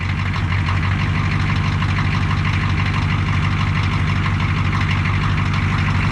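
A 6.2 engine idling after a cold start, a loud, steady low rumble with an even, rhythmic throb that holds throughout and no voices.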